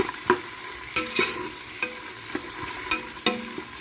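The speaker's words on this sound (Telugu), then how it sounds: "కొంచెం ఉల్లిపాయలు వేగాలండి" Onions frying in hot oil for khushka biryani, a steady sizzle broken by sharp scraping strikes of a spoon stirring the pan at irregular intervals, close and loud with no talking.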